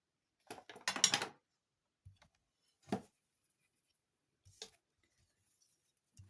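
Paper being cut with scissors for a handmade Christmas card: a close cluster of crisp snips, then a few sparse, isolated cuts and light taps separated by silence.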